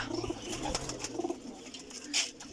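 Soft, low pigeon coos repeat a few times in a gentle rhythm over a faint background hiss.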